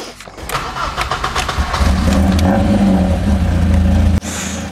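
A BMW M3 engine cranks and fires up, then revs and settles into a rough, loud idle with a steady low rumble, close to the car with no talking.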